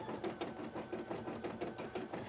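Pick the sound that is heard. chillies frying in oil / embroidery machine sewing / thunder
embroidery machine sewing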